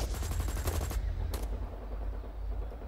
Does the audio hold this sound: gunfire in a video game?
yes